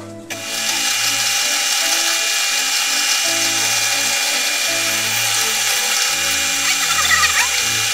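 A power drill bores holes in cherry wood for a Breton spoon rack, a loud continuous whirring grind with the motor pitch shifting in steps as the bit cuts, close and alone.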